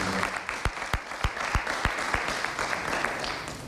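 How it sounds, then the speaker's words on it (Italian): A small group claps in a steady, evenly spaced rhythm of sharp individual claps, close by and fairly loud, with no cheering. "Ecco quindi l'applauso doveroso."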